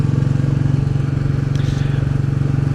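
A Royal Enfield Bullet 350 motorcycle being ridden, its single-cylinder engine thumping in a loud, steady, even rhythm close by, with a voice talking over it.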